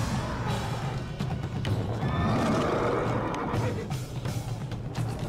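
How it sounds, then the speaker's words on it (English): Summoned horse demons in the Jade Empire fantasy martial-arts game neigh and whinny loudly over a dense, busy layer of battle sound, with a rough snorting quality throughout. "The sorcerer begins the fight by summoning two horse demons with a magic style."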